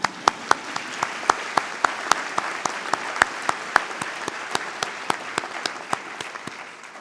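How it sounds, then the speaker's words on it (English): Graduates at an agricultural and environmental sciences convocation applaud themselves, a sustained wash of hall-wide clapping with sharp individual claps standing out near the microphone. "You can clap yourself, you know."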